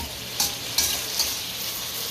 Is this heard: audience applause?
no